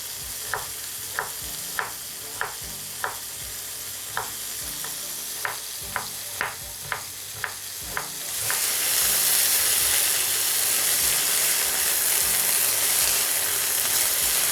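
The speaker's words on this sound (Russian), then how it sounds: "А пока мясо жарится" Beef for stroganoff frying in a pan, first a quiet sizzle broken by a dozen evenly spaced sharp clicks, then a much louder steady hiss as the meat hits hot oil.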